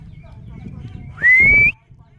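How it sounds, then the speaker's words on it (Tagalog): A single rising, sustained human whistle called to a dog outdoors, loud and close, lasting about half a second over faint background noise. "Isang pito lang po."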